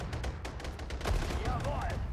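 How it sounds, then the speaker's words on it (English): Gunfire in the war strategy game Sudden Strike 4: rapid, crackling shots and bursts fire continuously over low battle rumble, with a heavier thump midway and voices faintly mixed in. "Fire the gun!"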